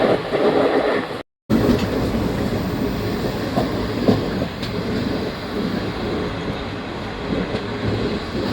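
Moving train heard from inside, a steady rolling rumble with rhythmic clickety-clack of wheels over rail joints and occasional metallic squeaks, continuous and fairly loud.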